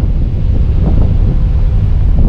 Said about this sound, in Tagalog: Galing ditong hangin.